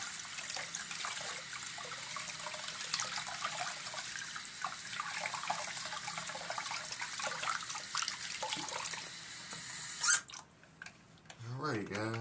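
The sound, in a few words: water rinsing a diecast model car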